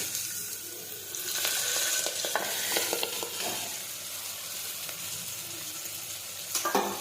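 Mustard seeds, cumin, hing and chopped cowpea beans fry in hot oil, giving a bright, crackling sizzle with scattered clicks and scrapes of stirring, busier early on and easing toward the end.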